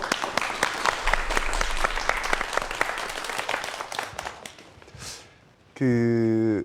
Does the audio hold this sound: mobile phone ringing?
no